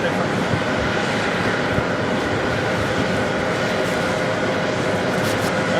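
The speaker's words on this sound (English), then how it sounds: "That was the flight coming in from London, flight 101 and a 777-300ER" A Boeing 777-300ER airliner, flight 101 from London, arrives at JFK with a loud, continuous engine roar that stays steady and close throughout.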